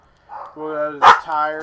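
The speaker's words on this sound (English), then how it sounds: "I'm sorry about the dogs." Dogs barking nearby indoors, a few loud yips and barks breaking in while someone talks over them.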